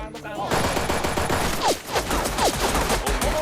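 Gunfire in the video game Black Stigma, a run of rapid shots and bursts packed closely together, loud and continuous with sharp whistling streaks cutting through the barrage.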